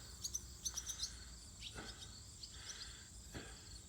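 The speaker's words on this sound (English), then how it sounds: "Hey, birds." Birds call faintly across an open pasture beside a hayfield, a few short high chirps early on, then soft scattered sounds over a steady insect-like buzz, distant and quiet with no talking.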